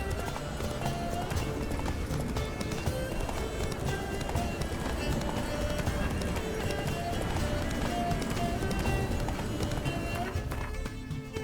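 A horse gallops in the video game The Witcher 3: Wild Hunt, Blood and Wine expansion, its hooves clip-clopping in a fast steady rhythm throughout, close and clear amid game sound, with talk likely mixed in.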